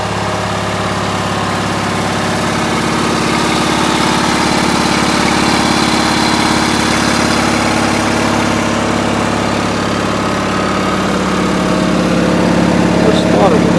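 A riding lawn mower with a brand new seat and a slightly rusty deck runs steadily nearby, a loud continuous engine drone with a low vibrating hum throughout.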